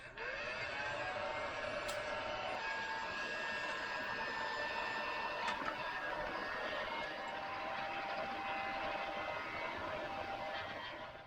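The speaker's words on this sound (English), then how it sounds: "I'm going to grab my heat gun, and I'm going to go ahead and get these guys, the heat shrink, shrunk onto the wires" A heat gun blasts hot air to shrink heat shrink tubing onto wires during an ARB air compressor and locker plumbing install; a steady, loud whooshing blower drone runs continuously alone, with a faint whine.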